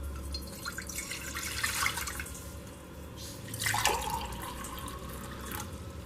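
Water poured into a pressure cooker sitting on a stove, a steady liquid rush with two brief louder surges, close and continuous with no talking.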